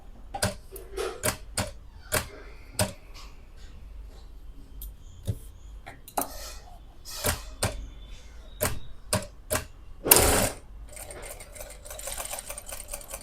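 A sewing machine stitches a kurti along an embroidered section, running in short rapid bursts of close, rattling stitching separated by brief pauses, with a longer, louder run near the end.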